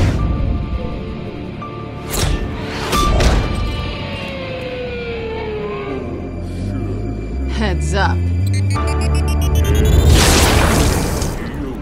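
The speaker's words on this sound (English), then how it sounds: "A flashbang grenade." A flashbang grenade going off in the video game Tales from the Borderlands: sharp loud bangs and a shattering burst, then a sustained ringing whine and rumbling boom that swells toward the end, mixed with game sound effects.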